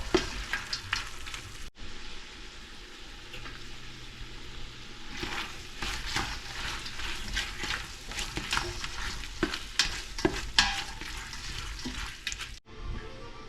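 Sausage jambalaya simmers down with brown gravy and a little water in a pot, giving a continuous bubbling sizzle with frequent stirring scrapes and clinks, loud and close, ending abruptly.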